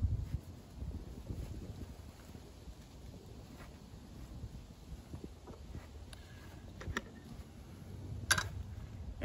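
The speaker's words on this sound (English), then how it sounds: "And I know you can hear that constant wind." Steady wind blows outdoors at about 5 to 10 mph, a constant low rumble with microphone buffeting that swells and eases, plus a few faint clicks and ticks late in the clip.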